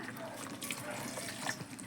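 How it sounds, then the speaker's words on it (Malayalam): A short, soft splash of a little water being poured into a simmering Afghani egg curry, faint and close. "ഇത്തിരി വെള്ളം ഒഴിച്ചു കൊടുക്കാം ഒരുപാട് വെള്ളം വേണ്ട"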